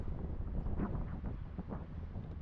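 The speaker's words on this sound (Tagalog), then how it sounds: "Mahangin din." Strong wind buffets the microphone with low, rumbling gusts, steady throughout and with no voices.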